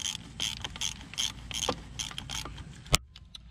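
Ratchet loosening a bolt on a Yamaha YZ426F four-stroke dirt bike, a rapid run of close, crisp pawl clicks in an even rhythm, ending in one sharp clack and then quiet, with no talk.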